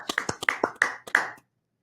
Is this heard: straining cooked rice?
no